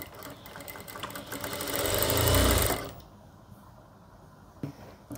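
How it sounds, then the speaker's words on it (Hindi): A sewing machine runs a stitch along the crease of salwar fabric, a steady whirring motor that builds for about three seconds and then stops abruptly, leaving a quiet room and one small click. "ये देखो, क्रीज में ही हम सिलाई लगाएंगे।"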